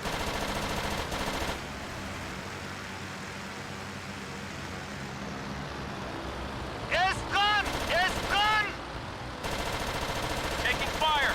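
Rapid machine-gun bursts in the WWII flight game Blazing Angels: Squadrons of WWII on Wii, with dense broadband rattling fire in several bursts over steady engine drone and chirping game effects, loud and close.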